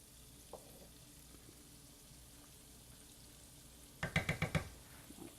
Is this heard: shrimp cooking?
yes